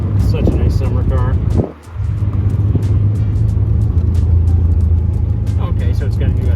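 A small summer car drives along a fairly straight road, its engine and road noise forming a steady rumble close by, with a brief dip partway through, while people talk over it.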